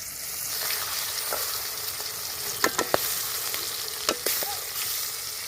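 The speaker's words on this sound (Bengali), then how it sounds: "এখন এই মাছগুলো তেলের উপরে দিয়ে ভালো করে ভেজে নেব" Silver carp pieces frying in hot oil, giving a steady close sizzle with a few sharp spatula clinks and scrapes against the pan.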